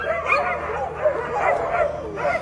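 Several dogs at a sled-dog mushers' race yelp, whine and bark excitedly in an overlapping, continuous chorus close by, with crowd-like background noise.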